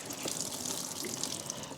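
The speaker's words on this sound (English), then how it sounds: "So I'm going to wring out the soapy water." Soapy water runs steadily from freshly washed laundry as it is wrung out by hand into a bucket, a continuous close splashing trickle with no voices.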